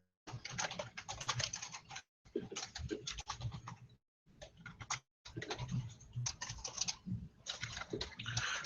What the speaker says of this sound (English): typing is not my thing today